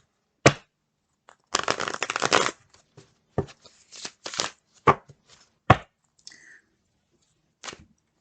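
Tarot cards being shuffled by hand, a dense riffling burst followed by separate snaps and taps of cards, close and crisp with silence between.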